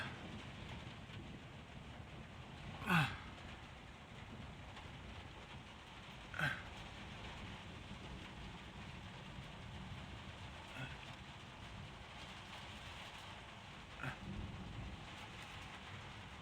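Rain pattering steadily on windows during a night lightning storm on Dartmoor, a dense continuous hiss with a few sharp crackling strikes and faint rumbles standing out at intervals.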